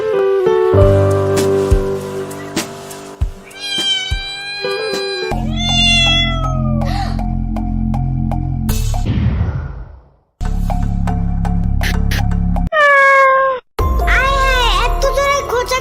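Cartoon cats meow again and again in bright, sliding cries, some sharp and rising, over tinkling music and steady background tones, loud and close throughout.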